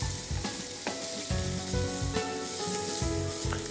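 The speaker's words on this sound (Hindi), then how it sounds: "इसलिए आप ध्यान रखें कि प्याज को हल्का सा ही आप गोल्डन करें" Onions sizzling and frying to a light golden colour in a pan for a gosht kalia gravy, a steady close hiss with periodic low scraping stirs roughly every half second, no voices.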